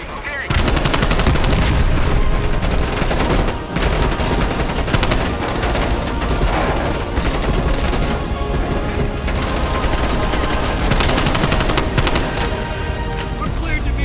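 Dense, continuous automatic gunfire and bursts of shooting from a Call of Duty Black Ops Cold War mission set in Moscow, loud and sustained throughout with explosions and voices mixed into the battle.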